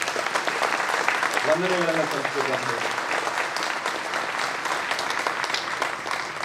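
An audience claps for the district officials at a public event in Bidar, a steady broadband patter running the whole stretch beneath someone speaking over a microphone.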